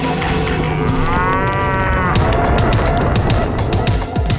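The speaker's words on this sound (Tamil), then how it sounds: "இந்த மாடு நம்மள விடாது போல இருக்கு." A cartoon cow lets out a long, loud, wavering moo in the middle of a busy animated scene, with other clattering sound effects mixed in around it.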